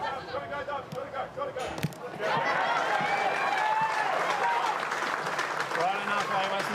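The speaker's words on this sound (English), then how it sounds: "Big round of applause there for Darcy Malone." A football stadium crowd at a women's A-League match between Canberra United and Western United swells into sustained applause and cheering after a quieter start, with a commentator's voice running over it.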